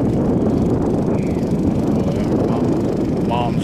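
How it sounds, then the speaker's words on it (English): A pressure washer runs nearby in a steady, unbroken drone, a dense, fairly loud wash of engine and spray noise that holds at an even level throughout. "mom's pressure washing her house today"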